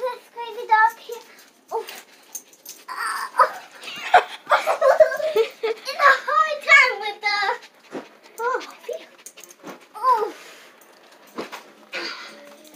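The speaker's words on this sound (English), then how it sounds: "See this crazy dog here?" A dog whimpers and whines in repeated high, wavering cries and pants close by, mixed with people talking over and between the sounds.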